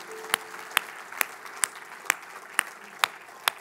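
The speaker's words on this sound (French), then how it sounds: "Est-ce qu'on peut donner une main d'acclamation à notre Dieu" A church congregation claps in praise to God, with single sharp claps landing at a steady, evenly spaced rhythm over a quiet murmur.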